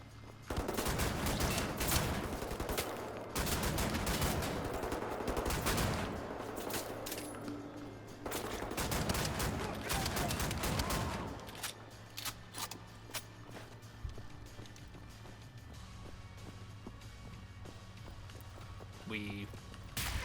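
Dual shotguns blast in rapid bursts in Wolfenstein: The New Order, loud, dense volleys of gunfire for several seconds, then sparser shots and quieter game noise.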